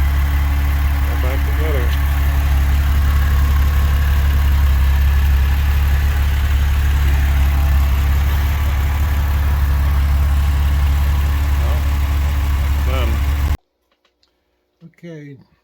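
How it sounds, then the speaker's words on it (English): A Porsche 996 engine idles steadily at close range, a deep continuous hum under a voice speaking, then falls silent near the end before a few brief soft noises. "Car started right up."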